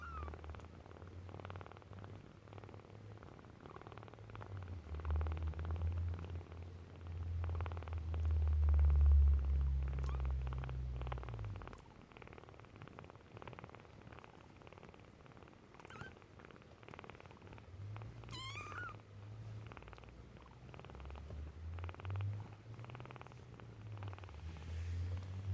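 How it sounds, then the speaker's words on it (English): A kitten purring close up, a steady low rumbling that swells louder midway, fades, then returns in softer waves, with no talking. "see if you guys can hear the purrs"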